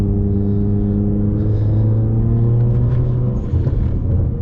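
Automatic Ford Mustang engine, 6- or 10-speed, heard from inside while paddle-shifting, giving a close, loud, steady droning rumble whose pitch rises and then dips near the end as the gear changes.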